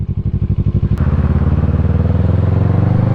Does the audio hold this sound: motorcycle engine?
yes